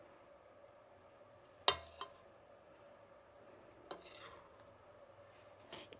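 Egg dum biryani is stirred and folded in a wide flat pan, with a few sparse metallic scrapes and clinks of a spoon against the pan over a quiet background.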